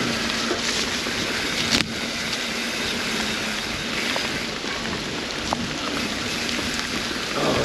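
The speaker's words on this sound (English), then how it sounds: "it's starting to get nasty, rainy" Steady rain hiss during a wet mountain bike ride on the Butter Gap trail, close and constant with wind and a few sharp knocks from the bike, no talking.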